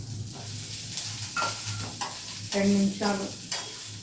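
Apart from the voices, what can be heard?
mung beans frying and being stirred in a pan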